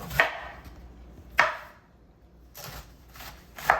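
A knife chops through food on a cutting board, four sharp separate strikes spaced irregularly with quiet pauses between, close and crisp in a quiet kitchen.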